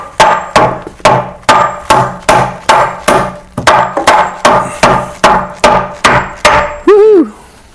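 A hammer strikes nails into a wooden floor joist end band during kitchen subfloor installation, giving about sixteen loud, evenly spaced whacks up close, then a short ringing tone and a brief exclamation at the end.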